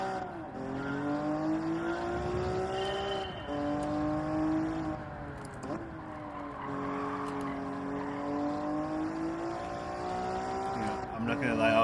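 A race car in Gran Turismo 7 spins out, its engine revving and wavering in pitch as tires squeal, heard steadily and fairly close throughout, with a person talking over it.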